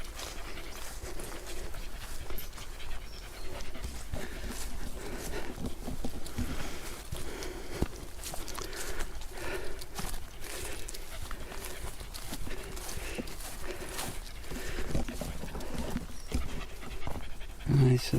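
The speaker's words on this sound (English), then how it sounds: "And you can possibly hear Rasha panting away, keeping cool" A dog pants rapidly and steadily on a countryside walk beside a stream, the quick breaths continuing close by over faint footsteps and outdoor ambience.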